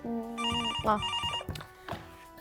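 A telephone rings with a repeated electronic bell-like tone for an incoming call, loud and close, the ringing pattern recurring in short bursts with no talk over it.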